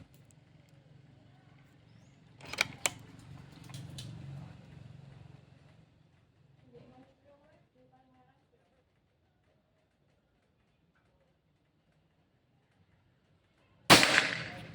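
A single sharp shot from a Pajerogun Gen 5 air rifle cracks near the end, loud and sudden, after quieter murmuring and low background noise.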